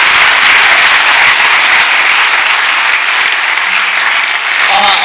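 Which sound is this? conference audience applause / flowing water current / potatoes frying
conference audience applause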